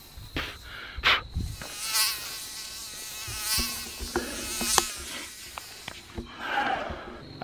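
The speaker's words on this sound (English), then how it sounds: "Can I shake all these mosquitoes off?" Mosquitoes whine and buzz around someone outdoors at an RV site, the thin high drone rising and fading in close passes over an otherwise quiet background with a few soft knocks.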